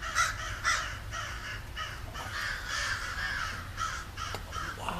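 Several crows caw repeatedly outdoors, with harsh calls overlapping at moderate distance over a steady background hum and no speech.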